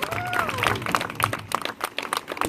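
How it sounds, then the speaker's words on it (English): A circus crowd claps in steady, moderate applause, with a voice briefly heard over the clapping. "Give them a good round of applause."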